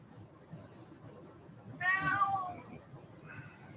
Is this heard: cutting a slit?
no